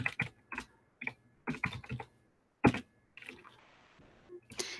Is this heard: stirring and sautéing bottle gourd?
no